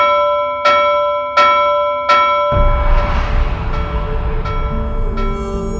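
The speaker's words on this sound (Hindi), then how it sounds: "बंद कर घंटी बजाना।" A handbell rung with three sharp, evenly spaced strikes, close and loud, each leaving a ringing tone. A dense noisy wash follows with a few fainter chimes.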